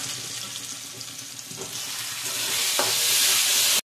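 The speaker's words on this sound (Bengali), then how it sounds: "ভালো করে কষিয়ে নিতে হবে।" A mash of Bombay duck fish with turmeric is stirred and fried in a pan, giving a close, steady sizzle with scraping strokes that grows louder toward the end and then stops abruptly.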